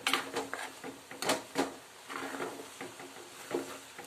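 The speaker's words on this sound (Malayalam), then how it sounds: "നന്നായിട്ട് ഇളക്കി കൊടുക്കും" Repeated scraping and clinking of a utensil stirring bitter gourd stir-fry in a pan to dry off water, irregular strokes close by, with a faint background hum.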